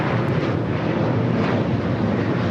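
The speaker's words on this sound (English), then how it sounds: "United Airlines 1260 taking off to Denver on the 737-900ER" United Airlines Boeing 737-900ER jet taking off for Denver at LAX, a loud, steady broadband engine roar that holds level throughout with no voices.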